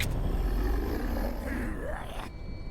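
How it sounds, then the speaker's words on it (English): A dragon roars in the game Cazzarion: a long, drawn-out growling roar with shifting pitch that rises and falls over game ambience, then cuts off into a quieter tone. "Oh, it's the dragon. Is he back?"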